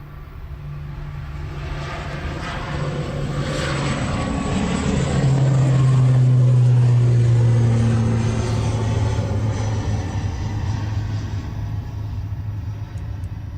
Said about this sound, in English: So that's the ATR out to Dublin.